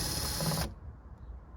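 Power drill whirring steadily while removing a bolt from a Chevy Volt side view mirror, close and loud for about half a second before cutting off abruptly into quiet room noise.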